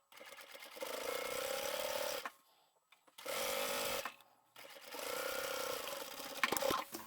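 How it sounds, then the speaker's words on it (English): A sewing machine stitching upholstery fabric for an unlined boxed bag, running in three steady whirring bursts of about two seconds each with short pauses between, close and loud. "So all you need to do is back stitch at the beginning and the end"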